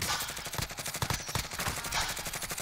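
Rapid automatic gunfire in Call of Duty Warzone, a fast rattling stream of shots at moderate distance with no talking.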